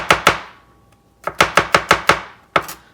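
A knife chops garlic on a cutting board in sharp, crisp strokes: two quick chops, a pause, then a steady run of five evenly spaced chops and one last stroke, close and loud with no voices.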